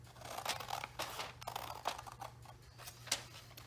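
Scissors trimming paper from a security envelope, a series of quiet, close crisp snips and slicing cuts repeating at an irregular pace with no talking.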